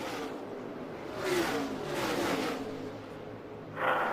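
NASCAR stock cars, including Kyle Busch's Joe Gibbs Racing Toyota, race on the final lap, their engines roaring past in loud revving surges that swell and fade in waves.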